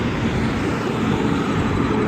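A loud truck passes outside, a broad continuous roar of engine and road noise filling the whole moment without pause.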